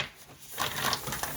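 Tarot cards shuffled against the edge of a desk, a brief close burst of crisp papery riffling after a quiet start.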